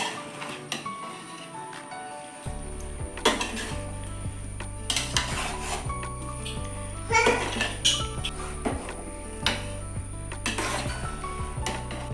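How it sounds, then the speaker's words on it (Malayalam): Ground coconut paste being mixed into Kerala-style avial vegetables in a pot, heard as repeated spoon scrapes and clinks against metal over a steady low hum. "ഇതുപോലെ നന്നായി മിക്സ് ചെയ്ത് കൊടുക്കുക"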